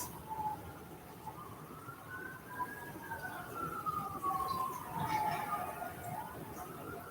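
A wailing siren rises and falls in the distance outdoors, sweeping up and down steadily over a low background rumble.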